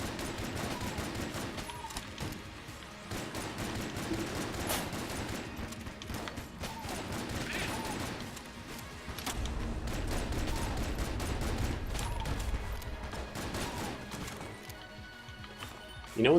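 Repeated shots from the plague pistol in Enter the Gungeon, a steady run of gunfire blasts under game music and effects, moderately loud throughout with a low rumble rising midway and a sharp hit at the very end.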